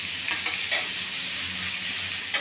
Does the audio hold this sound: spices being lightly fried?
yes